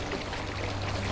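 River water flowing in the video game Conan Exiles, a steady, even rushing stream that stays close and moderately loud for the whole moment.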